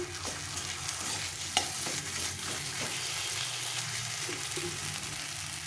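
Garlic and taro fry in a pan while being stirred, a continuous close sizzle broken by scraping and stirring knocks, with no talking.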